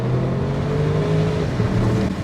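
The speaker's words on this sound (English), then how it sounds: "I'm going to put it in sport mode, and then you're going to hear this exhaust kick in" Deep, rumbling V8 exhaust of a Bentley Bentayga S in sport mode, idling and revving with a low burbling drone, loud and close, no voices.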